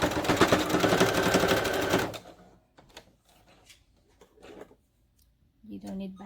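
A sewing machine stitches the pleated body of a homemade fabric mask, a steady rapid mechanical whirr for about two seconds that stops abruptly, followed by faint handling clicks.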